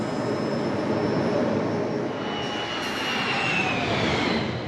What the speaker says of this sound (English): the relatively new turbine jet engine race cars